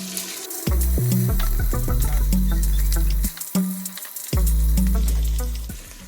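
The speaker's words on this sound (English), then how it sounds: "you can throw back in your beef pieces just to fry them" Fatty beef pieces fry in a pot for a beef stew, crackling and hissing loudly and continuously. Occasional clinks and shifting sizzle bursts break up the sound, and a short lull comes midway.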